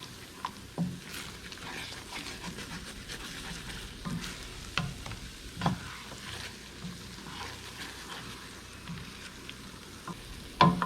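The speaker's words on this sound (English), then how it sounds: "about 15 minutes you want this to fry until it is looking a little bit darker color" Food frying in a pan for an Italian tomato sauce, a steady low sizzle with occasional soft stirring scrapes and light clinks, moderately close and continuous, with no talking.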